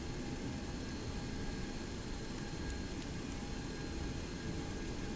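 Steady, dense engine and airflow roar of a FlyJSim Boeing 727 on its takeoff roll from runway 26 left in the X-Plane 11 flight simulator, a constant broadband drone with a few faint high clicks midway.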